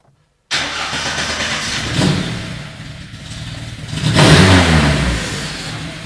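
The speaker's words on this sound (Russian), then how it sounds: "То есть заводим машину на бензине." A carbureted car engine is started on petrol in cold weather: a sharp crank catches, then the engine revs up and settles into a loud, rough idle close by.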